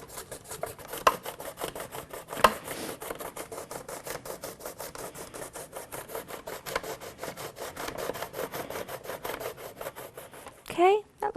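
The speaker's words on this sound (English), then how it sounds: "So, I'm going to take and grate it real quick." Zucchini rubbed by hand against a grater in a steady, rapid rasping rhythm of repeated strokes, close and moderately loud, running continuously with a brief pause near the end.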